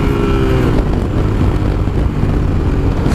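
A Suzuki SV650S motorcycle, restricted to 47 bhp, accelerates in first gear, its engine note loud and close with a rising whine, then holding a steady roar.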